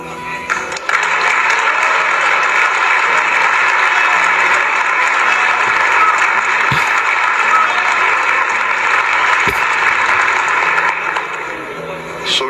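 Sustained applause from a large audience at an Indonesian speech event, loud and steady for the whole stretch with a dense, even texture and a few sharp claps standing out.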